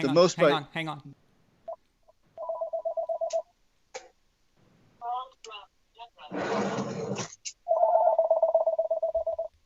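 A telephone rings in bursts of repeated electronic trill tones, separated by short gaps, with brief voices and other sounds between the rings.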